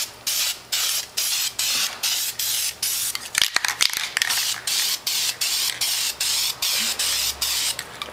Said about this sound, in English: I try to have uniform to everything I spray.